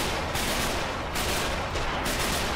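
Sustained gunfire in the World War II shooter The Heat Of War, set in Garapan on Saipan: loud, dense rattling bursts with sharp shots near 1.1 and 2.0 seconds.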